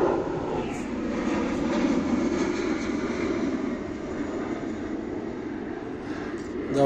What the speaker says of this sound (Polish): samolocik leci, dajmy mu się wyszumieć